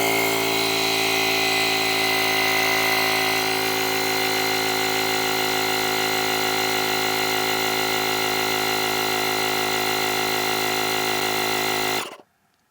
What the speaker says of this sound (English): as I press the go, it'll start pumping up